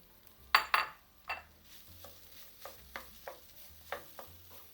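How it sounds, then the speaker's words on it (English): Cauliflower and masala frying in a pan, with a low sizzle under repeated scraping and clinking strokes from a spatula against the metal, a few sharp knocks early and then a regular stirring rhythm, no voice. "now keep frying the gobi and all the masala for at least 3 to 4 minutes"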